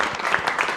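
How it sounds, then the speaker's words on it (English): Applause from an audience at an Essex County freeholder meeting, a steady wash of clapping through the short moment with no speech over it. "give Daddy a round of applause"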